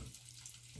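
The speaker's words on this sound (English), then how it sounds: "Look at the Coke bubbling in the sink." A steady, close hiss of Coke fizzing in a sink, with a low hum running underneath throughout.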